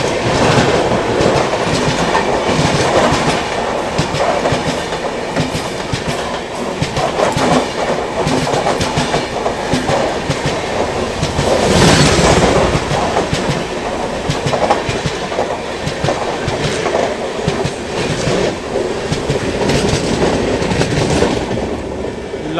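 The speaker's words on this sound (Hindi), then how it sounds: "अभी अपनी ट्रेन को ओवरटेक कर रही है अवध असम एक्सप्रेस।" The Awadh Assam Express overtakes alongside a halted passenger train, giving a continuous loud rumble with steady clickety-clack wheel rhythm that lasts the whole time, close by and with no talk.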